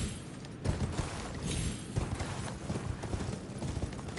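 A horse gallops in the video game Elden Ring, its hoofbeats a loud, steady, rhythmic clip-clop that carries on throughout with no voices.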